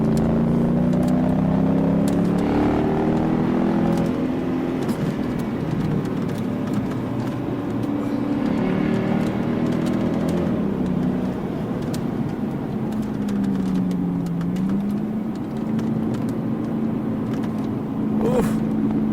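Mercedes W211 E63 AMG V8 engine on a race track, a loud continuous in-car roar rising and falling with revs, with a voice speaking over it at times.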